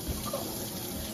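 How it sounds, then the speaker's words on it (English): Cold tap water runs steadily into a kitchen sink while beans are rinsed for slow cooker chili, a soft, even hiss of flowing water, faint and alone. "So we're gonna run some cold water down here, Selene."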